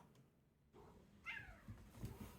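A cat meows once in the video game Project Zomboid, a short rising cry, faint against low background rumble with soft thuds afterward.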